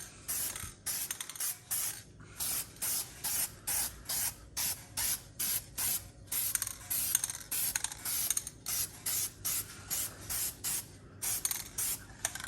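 A rattle can of high-heat paint sprays onto brake calipers in short, rhythmic hissing bursts, roughly two per second, close up and steady throughout, with no talking.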